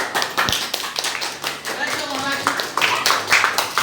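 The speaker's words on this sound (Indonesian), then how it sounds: "Ya, tepuk tangan." Hands clapping in a classroom, a brisk burst of applause from a group of students filling the short stretch, with voices mixed in among the claps.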